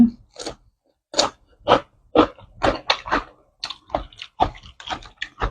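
Crispy fried sea bass is bitten and chewed up close, making a quick series of loud, sharp crunches in an uneven rhythm with brief pauses.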